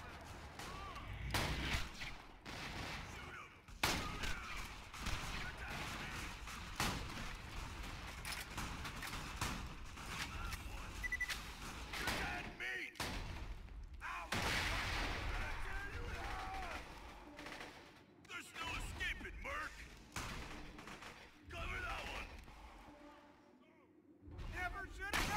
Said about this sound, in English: I forgot I had my sniper rifle out, so it wanted to use my sniper.